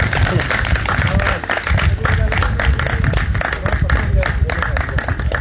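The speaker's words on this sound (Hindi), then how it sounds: "इस बिटिया के लिए जोरदार तालियां" A school awards gathering in Dehradun applauds a young girl honoured for drawing, the crowd's clapping loud and continuous throughout, with a voice speaking over it.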